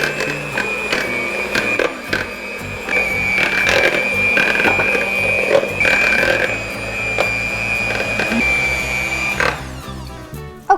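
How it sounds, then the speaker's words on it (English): An electric hand mixer on a low setting whirs steadily as it beats deviled egg filling in a bowl, a continuous high-pitched motor drone with clattering beaters, loud and close for about ten seconds. "And we just go to town with our hand mixer."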